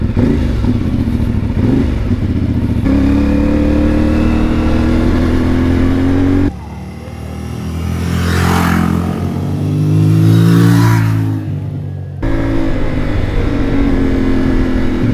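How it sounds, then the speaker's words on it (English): A CF Moto 450MT motorcycle on trails and back roads carries a loud, close engine and exhaust note that rises and falls through gear changes and revs, with a wind-buffeted stretch in the middle and no talking. "sometimes the exhaust just spits a little bit and it sounds really nice. It's like gurgling."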